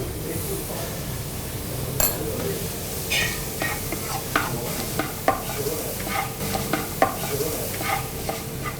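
A spoon stirs chili powder into papaya curry frying in a pan, with a continuous sizzle, scraping strokes and occasional sharp clinks against the pot.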